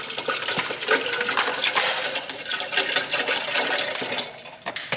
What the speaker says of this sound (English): Fill our water up.